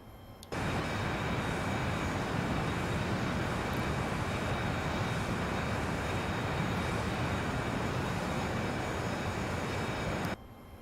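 An airliner rolls down runway 31 left for takeoff in the X-Plane 11 flight simulator, its engines holding a loud, steady broadband roar from start to finish and then cutting off abruptly, with no talking.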